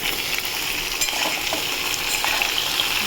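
Okra sizzling steadily in hot oil in a pan after potatoes have been fried, with a dense continuous crackle and occasional scraping stir strokes, close and fairly loud with no voices.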